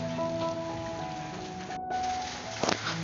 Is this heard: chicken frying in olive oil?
no